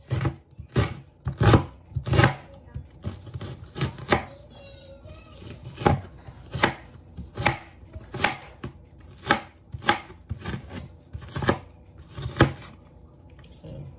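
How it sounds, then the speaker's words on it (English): Onions are diced with a knife on a cutting board for akara, a steady series of sharp, close chopping knocks in a regular rhythm, loud and clear with no talk. "So right away, I'm going to just dice the onions"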